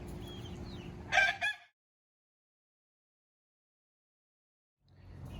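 Backyard chickens cluck and cackle close by in a short outdoor burst, followed by silence before the flock sounds resume faintly at the end.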